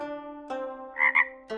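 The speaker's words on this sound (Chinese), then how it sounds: "偶有几声蛙鸣" A frog croaks at night in a quiet countryside setting, giving a few short, close, evenly spaced calls with silence between them.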